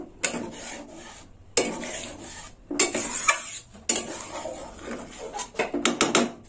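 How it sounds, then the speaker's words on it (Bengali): A spoon or ladle stirs boiled lentil dal with prawns in a pot, producing close, uneven bursts of scraping and rubbing against the metal with brief pauses between strokes. "ডালটা একটু নেড়ে ছেড়ে নেবো।"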